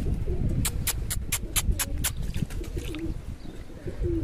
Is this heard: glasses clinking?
no